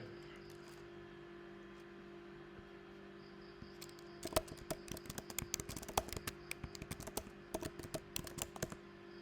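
Close, quiet clatter of computer keyboard typing, starting after a few seconds of near silence and continuing in quick irregular bursts of key presses.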